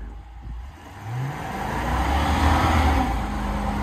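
A 2021 Jeep Grand Cherokee in mud mode spins its wheels in snow, the engine droning and rising in pitch as it revs, loud and steady throughout.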